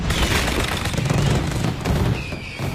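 Fireworks burst in dense, continuous volleys at an outdoor live show with an orchestra, a loud, rumbling barrage of overlapping booms and crackles with no pause across the span.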